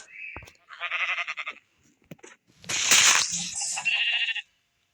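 A sheep bleats in a few close, loud wavering calls separated by short pauses, with a brief sharp click between them.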